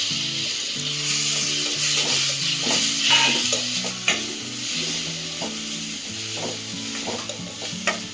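Chopped carrots fry in a pan for a paneer gravy, a steady close sizzle with the scrape and clatter of a spoon stirring through them; music plays throughout.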